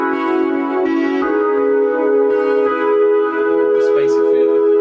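A spacey synth pad doubled with chorus holds a sustained, shimmering chord, loud and continuous throughout with a slight swell near the end.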